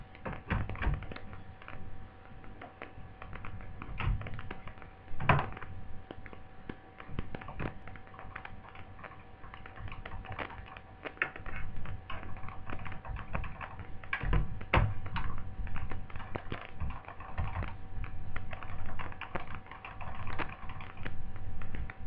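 Replaced mouse buttons on a Toshiba L300 laptop click repeatedly at close range, a rapid, irregular run of small sharp taps with no voices over it.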